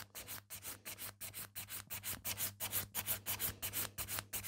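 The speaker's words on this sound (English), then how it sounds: "this way you are filing evenly on the entire nail" Steady back-and-forth filing on a sculpted French gel builder nail, a close, even rasping stroke repeating about three times a second without pause.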